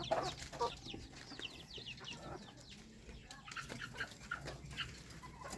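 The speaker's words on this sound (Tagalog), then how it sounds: "Ang daming manok ni Pepot ah." Chickens and chicks on a farm with mango trees, clucking in short, scattered calls over steady outdoor background noise, a few nearby and others farther off.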